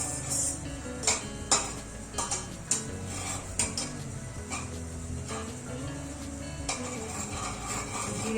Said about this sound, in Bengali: জিরেটা নাড়াচাড়া করে নিচ্ছি আমি তেলে